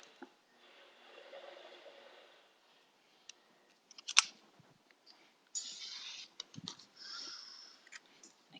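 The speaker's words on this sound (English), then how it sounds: "Again, I'll cut my rectangle down to a square, and then we'll trim that down to triangles next." Scissors cut cotton fabric for a Bear Paw quilt block, giving a few quiet, close snips and rustles separated by silence, with occasional clicks and handling noises.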